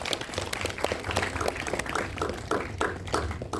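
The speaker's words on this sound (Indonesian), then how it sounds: "Kita berikan tepuk tangan, berikan dukungan yang luar biasa." Clapping from the audience at a press conference for the horror film Qorin 2, a fairly sparse, uneven patter of individual claps with distinct louder hits scattered throughout.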